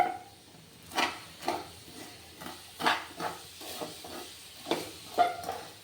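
A thick mixture of condensed milk and vermicelli is being stirred in a pan for vermicelli barfi. A spoon scrapes and stirs in irregular, soft strokes, with faint scraping over a quiet background and no talk.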